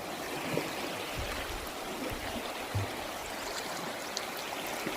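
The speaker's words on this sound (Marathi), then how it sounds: "पाहू शकता हे पाणी आलेलं आहे" Rainwater runs in a stream beneath a bridge during heavy monsoon rain, a steady broadband rush of flowing water with faint gurgles, heard from nearby and alone for several seconds.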